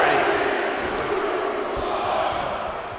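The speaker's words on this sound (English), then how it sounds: "The crowd is counting it down." A large crowd at a women's War Games wrestling event chants together in a loud, sustained roar that carries steadily throughout.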